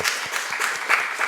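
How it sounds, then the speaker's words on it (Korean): A congregation at a church staff worship service gives a short burst of applause, many hands clapping in a steady, moderately loud patter. "우리 CTS 직원들이 있는데 우리 박수로 한번 격려하도록 하겠습니다"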